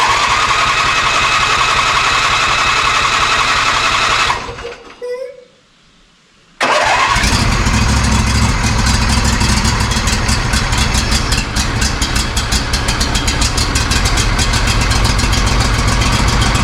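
An engine on a cabin's machine that was run out of gas for winterizing is cranked, goes briefly near-silent, then catches and runs loud and steady, a close, rough, rapid mechanical drone throughout.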